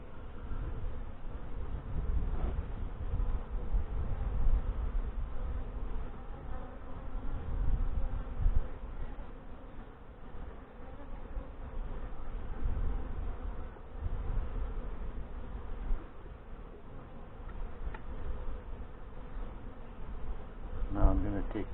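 Honey bees swarming around an open hive during an inspection of brood frames, a dense, continuous buzz close by that rises and falls steadily throughout.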